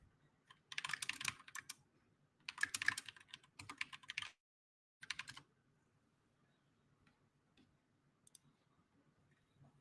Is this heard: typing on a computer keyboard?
yes